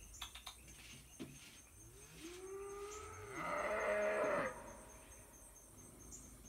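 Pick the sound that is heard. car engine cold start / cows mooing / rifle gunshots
cows mooing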